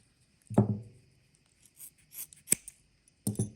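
Scissors snip through cable sheathing several times, a sharp crunchy cut followed by a couple of quieter snips and two more crisp cuts, close up with no talking.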